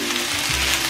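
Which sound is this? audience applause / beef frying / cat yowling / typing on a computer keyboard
beef frying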